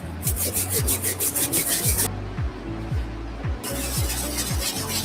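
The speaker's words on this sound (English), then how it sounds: "I'm going to be using a wire tip bristle brush, being careful around those edges so I don't hit the paint" A wire-tip bristle brush scrubs Alternate Grape Jordan 5 sneakers, working near painted edges. Close, steady back-and-forth scratchy strokes repeat in a quick rhythm with a short pause partway through.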